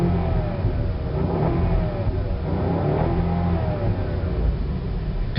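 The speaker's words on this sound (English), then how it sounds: "let me rev the engine and give you just a little taste of what this bad boy sounds like" A 2008 BMW 550i V8 engine revs steadily, its note rising and falling in repeated sweeps, loud and close with no talking over it.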